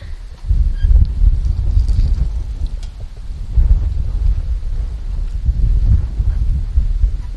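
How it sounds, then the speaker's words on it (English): Strong wind buffets the microphone during an e-bike ride through Key West backstreets, in low, rumbling gusts that rise and fall without pause. "Ooh, the wind's picking up."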